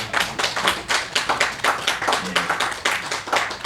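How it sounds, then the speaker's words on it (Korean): A congregation at a Korean Presbyterian Sunday worship service claps together in a brisk, fairly even rhythm, a close, steady patter of many hands lasting throughout. "자리에서 함께 일어나실 때 우리 큰 박수 부탁드립니다."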